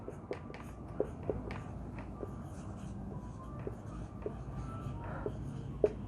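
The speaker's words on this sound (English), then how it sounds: "I can write here" Writing on a board during a spoken-English lesson: a steady, faint scratching of strokes with small taps, with no talking.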